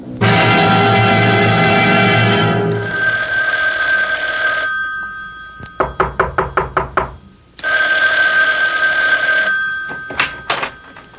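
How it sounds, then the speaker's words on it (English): A telephone bell rings loudly in two long bursts, with a quick run of knocks between them, in a radio mystery drama. "Isn't that your phone I hear ringing?"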